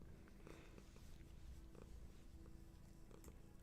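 A cat purrs softly and steadily up close, a low continuous rumble with faint background noise.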